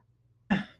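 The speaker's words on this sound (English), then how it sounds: "Sorry, I got a cough" A single short, sharp cough bursts out close to the microphone after a moment of near silence, then quickly fades.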